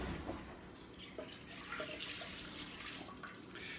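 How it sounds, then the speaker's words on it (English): Heated milk, 11 ounces warmed to 80 degrees, poured into a bread machine's baking basket, giving a steady soft liquid splash and trickle that lasts the whole moment, fairly quiet and close with no talking. "I pour this in my handy bread basket"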